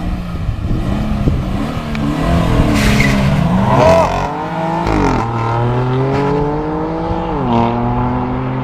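A Toyota GT86 and a BMW M3 accelerate hard side by side in a race, engines loud and close, with rising revs and repeated upshifts as the pitch climbs, drops and climbs again, and a brief tire squeal early on.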